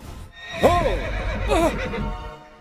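A horse whinnies twice at a stud farm, a loud high neigh followed by a shorter second one, over a low background rumble.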